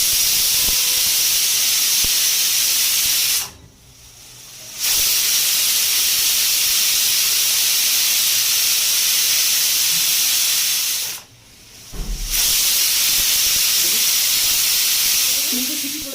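A pressure cooker holding mutton being cooked Bengali-style lets off a loud, continuous whistle of escaping steam, close by, with two short breaks where the jet cuts out before starting again.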